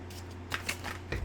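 Tarot cards being shuffled, a short, faint papery riffle with a few soft flicks, close and quiet.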